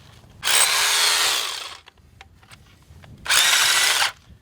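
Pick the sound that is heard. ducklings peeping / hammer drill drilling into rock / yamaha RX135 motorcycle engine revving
hammer drill drilling into rock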